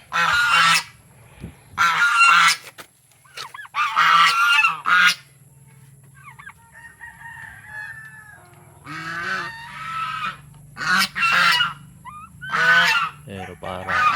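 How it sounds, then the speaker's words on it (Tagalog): Four-month-old turkeys, one male and two females, give loud repeated honking calls in separate bursts. Quieter gobbling and chatter fill the gaps between the louder calls. "Ito yung ating ongoing 4 months old na pabo."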